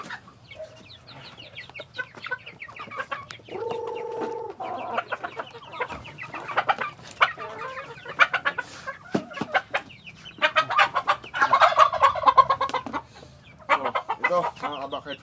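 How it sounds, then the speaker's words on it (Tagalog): Cobra rooster clucking and crowing in a backyard farm setting, with repeated clucks, a rising crow near the end, and other fowl and ambient noise around it, no voices. "so una kong papakita sa inyo is yung bulik natin na Cobra Rooster"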